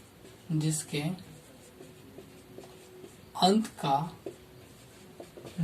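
Pen or chalk scratching as numbers are written by hand, soft and intermittent between bursts of a voice explaining in Hindi.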